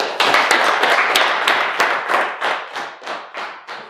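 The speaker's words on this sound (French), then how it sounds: "C'est bon, on applaudit." Children in a French elementary school classroom clap together, a burst of sharp, closely spaced hand claps that quickly thins into a few slower, fading claps.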